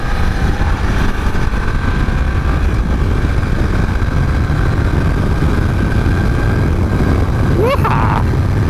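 A 2020 BMW F900XR motorcycle engine drones loudly under wind rush as the bike accelerates on an open road to overtake a car, with a rising tone late on.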